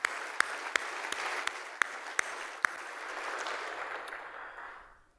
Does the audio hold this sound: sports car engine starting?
no